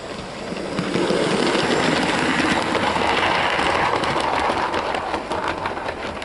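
A steady, dense mechanical rumble and clatter of a Hornby NBR Class J36 model steam locomotive pulling two coaches, running continuously, close and fairly loud, with no talking.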